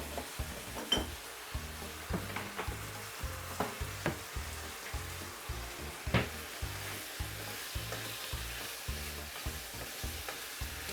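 Chicken and pak choi stir-fry in a hot pan, the sizzle broken by a regular rhythm of stirring scrapes and clacks, a dozen or more strokes, close and clear with no talking.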